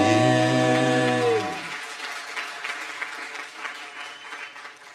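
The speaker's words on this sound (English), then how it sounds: "Another round of applause, please, for the team" An audience at the opening of the Professor Robert Sobukwe Exhibition applauds the team. Sustained, dense crowd clapping takes over just as a sung chord ends, continuing steadily at moderate loudness with no talk.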